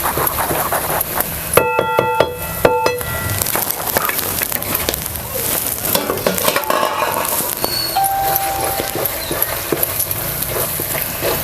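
Chicken sukka masala stir-fried in a pan, with repeated metal clinks and scrapes of a spatula against the pan over a constant sizzling background, close and busy.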